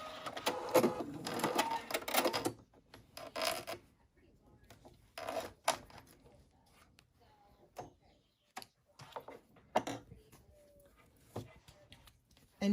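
A sewing machine stitching a dart to its point, a quick mechanical rattling run at first, then short separate clicks and taps as the stitching slows and stops, close by.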